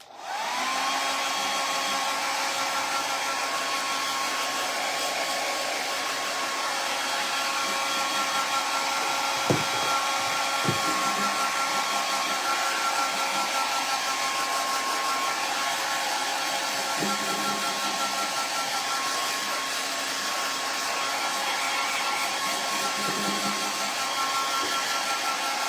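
A hair dryer drying a coat of paint on upcycled home decor runs steadily and loudly for the whole stretch, a close, constant whirring hiss with a couple of faint clicks partway through.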